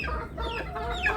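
Chickens clucking close by on a backyard poultry setup, a steady run of short clucks and murmurs with a sharper cry near the end, no talking.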